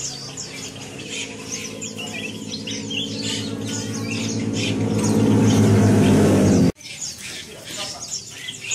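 Bird calls and chirps of an Asian fairy-bluebird (cucak biru) singing in a bird shop, a steady busy mix of squawks and tweets that builds louder before cutting off abruptly, with background noise throughout.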